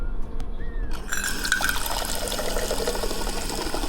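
An office drink machine dispenses blood orange flavored water into a cup. A click is followed by a steady, splashy pour of liquid filling the container up close.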